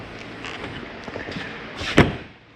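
Exterior door of a Jayco Eagle 321RSTS travel trailer swung shut with a single sharp slam near the end, preceded by light handling taps and rattles, close and fairly loud with no talk.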